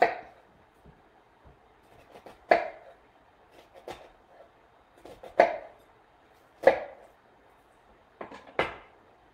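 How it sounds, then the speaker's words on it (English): Knife cutting through an onion on a cutting board in thin lengthwise slices, several sharp close knocks spaced a second or two apart with soft taps between, no voices. "I'm just going to make, like, kind of follow the lines, like very thin long cuts through this onion."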